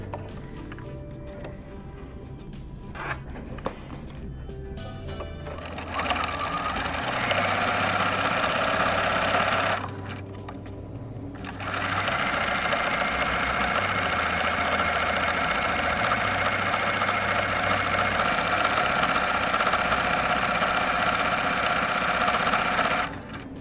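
Sewing machine top stitching along the edge of a bag strap, a steady mechanical whir in two long runs separated by a short pause, close and loud with no talking.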